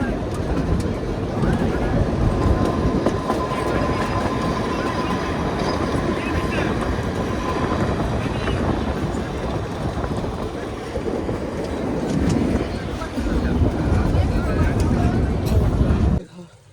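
A toy train runs on its mountain tracks toward Shimla, giving a steady, close rumble and clatter that continues throughout before cutting off abruptly at the end.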